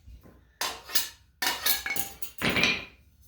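Hammer blows knocking a speaker grill part off a 3-inch pipe, a series of sharp metallic clanks in irregular bursts, close and loud with ringing decay between strikes.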